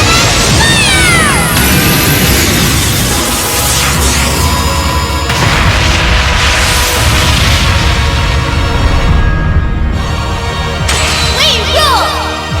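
A lightning cannon in Trails of Cold Steel 2 fires in a sustained, loud, crackling blast, with electric whooshes and heavy booming impacts rolling continuously amid game music.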